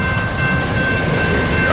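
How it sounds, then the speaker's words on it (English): A southbound coal train rumbles past up close, a loud steady roar of rolling wagons with a faint sustained high squeal over the heavy low rumble. "there's a southbound coal train right behind this"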